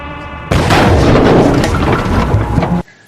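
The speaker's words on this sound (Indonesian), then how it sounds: "Sementara mobil yang membawa uang tadi juga meledak." A loud, sudden blast erupts into a long roaring, rumbling explosion that lasts a couple of seconds before cutting off abruptly.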